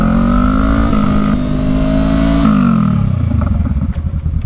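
A Honda motorcycle engine holds a steady high rev, then drops in pitch as the rider brakes and settles into a lumpy, chugging idle, loud and close.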